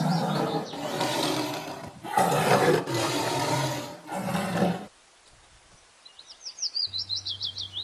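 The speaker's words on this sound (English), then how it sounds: "T for tiger." A tiger lets out three long, powerful roars, close and loud, then falls silent as birds chirp in a rapid twittering series.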